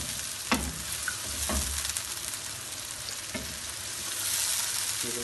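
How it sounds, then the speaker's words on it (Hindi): Vegetables and chicken for chowmein sauté in a pan over high flame, giving a loud steady sizzle close up, broken by a few sharp stirring scrapes and clanks, with no voices. "बस हल्का सा इसको तेज़ आग पर सौते करना है।"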